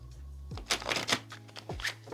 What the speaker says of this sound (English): let's go ahead and just give this a little bit of a shuffle